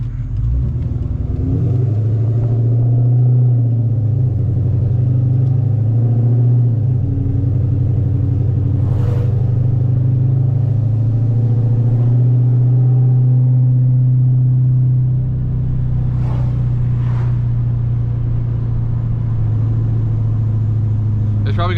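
A Dodge Challenger SRT8 engine idles with a deep, loud, steady rumble, its pitch shifting slightly as it moves off and drives, with a few brief clicks and someone talking over it.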